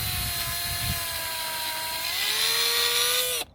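A power drill bores through an inline figure skate frame to mount a blade outdoors, its motor whining steadily and rising in pitch before cutting off abruptly near the end, loud and close with no talk.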